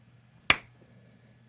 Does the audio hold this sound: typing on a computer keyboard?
no